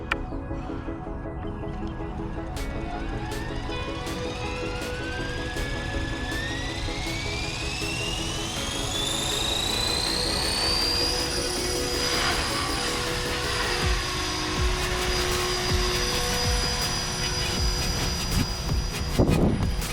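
A Blade 330S RC helicopter spools up on an overcast day. Its motor whine climbs steadily in pitch over about ten seconds, then holds at a loud, sustained flying buzz with rotor wash and small wavers.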